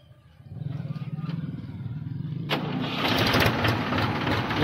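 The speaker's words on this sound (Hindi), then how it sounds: "ये देखो जी आवाज़ ट्रैक्टर की इसकी" A Mahindra tractor engine cranks and catches at about two and a half seconds, then settles into a loud, steady diesel chug with a rapid pulsing rhythm.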